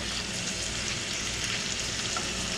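Bacon frying in an old cast iron pan, a dense, steady sizzle with constant crackling and popping close by, unbroken and without talk.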